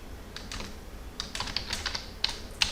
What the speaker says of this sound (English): So here we are going to type my data is equal to